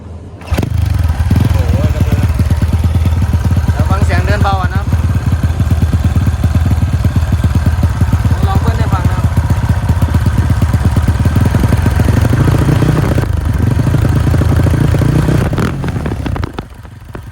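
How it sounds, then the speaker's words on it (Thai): A Honda Wave 125R motorcycle engine cranks to life close by and settles into a steady, loud idle with a few throttle blips, then shuts off near the end; someone talks briefly over it. "เจ้าของรถมาสตาร์ทหน่อยเดี๋ยวฟังเสียงนะครับ"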